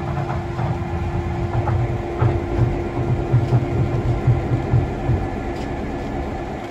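N.C.&St.L. steam locomotive 710 rumbles steadily along the track nearby, with a low engine drone, rhythmic wheel clatter and a constant hum, no voices.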